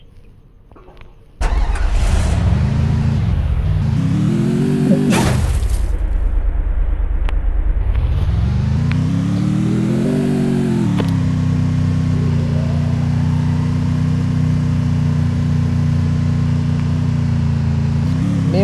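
A motorbike engine in the game Free Fire starts up and revs loudly, pitch swooping up and down, then settles into a steady close idle drone.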